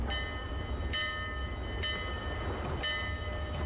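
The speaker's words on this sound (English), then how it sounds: "Nice, ominous, echoing bell ushering in the ghost ship." In Dark Souls II, an ominous, echoing bell tolls four times at slow, even intervals, each strike ringing with long metallic overtones over a low, steady ambient rumble, faint and distant.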